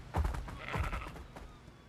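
Sheep with black wool and red horns in the video game Ark bleating twice in quick succession, short nasal calls close by and moderately loud, with no talking.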